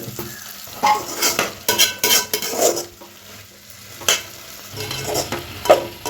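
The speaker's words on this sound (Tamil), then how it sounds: "இதெல்லாம் நல்லா வதக்கி விட்டுக்கலாம்." Drumstick leaves sautéing in a pan with tempered mustard seeds and dried red chillies, stirred with a spatula. Close, steady sizzle with repeated scraping and clinking strokes against the pan, and no talk.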